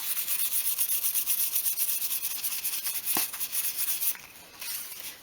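Steady, close rubbing of sandpaper across a small wooden piece for a 1/12 scale miniature garden shed, a dry rhythmic scratching that runs continuously, pauses once briefly and then resumes more softly near the end.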